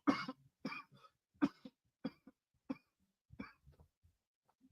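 A single person coughs repeatedly at close range, a run of about eight sharp harsh bursts with short pauses between them, alone without talk.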